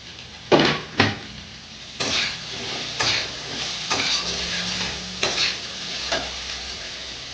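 Taro pieces drop into hot oil in a pan with bay leaf and black cumin, sizzling steadily while a spatula stirs and scrapes in a series of close, clattering strokes over the continuous frying hiss.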